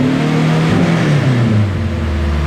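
A turbocharged Honda EG with an H2B engine revs loudly on a dyno while the throttle body sticks, a steady droning engine note with pitch sliding down across the pull, heard close with no talking.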